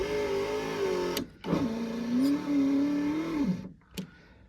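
A weak car power-window motor whines and strains in two long, wavering runs separated by brief pauses, ending with a short click and a final brief whir.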